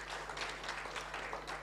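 A church congregation claps for God during a live evangelistic service, the applause a steady, moderately loud wash of many hands lasting throughout, with a low hum beneath.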